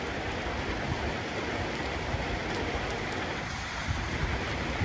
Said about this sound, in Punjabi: ਮੀਂਹ ਦਾ ਕਿਹੜਾ ਫੁੱਲ ਆ ਗਿਆ ਆ ਵੇਖੋ